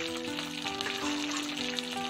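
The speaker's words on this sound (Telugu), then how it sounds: "నెక్స్ట్ పచ్చిమిర్చి కూడా వేసేస్తున్నాను" Green chillies and curry leaves crackle and sizzle steadily in hot oil in a pan while peanut chutney is made at home, a dense close frying hiss with no talking.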